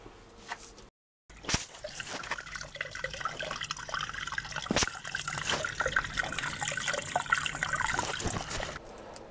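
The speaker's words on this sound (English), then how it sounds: "he's run a hot tap, the boiler's firing" Hot water running from a tap while an old combi boiler fires, a steady close trickle and splash with a brief break and a few knocks.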